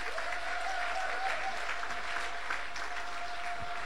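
A church congregation applauding their pastor as he is welcomed, a steady even wash of clapping throughout, moderately distant, with a faint sustained tone underneath.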